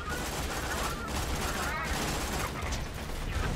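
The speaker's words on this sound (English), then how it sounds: "Shoot the joints in between its arms and its body." Rapid video-game gunfire in Borderlands 2 as players shoot at an enemy's arm joints, a dense continuous burst of shots filling the whole stretch, loud and close, with voices talking over it.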